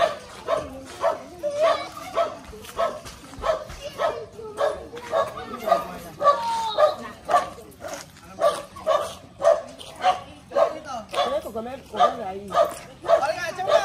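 A dog barks and yips repeatedly in short bursts close by, with some whimpering mixed in, while people talk over and around the barking.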